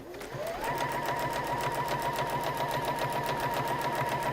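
A sewing machine runs steadily while chain piecing fabric squares, a continuous motor whine with rapid regular needle stitching that spins up at the start and holds throughout, close and alone.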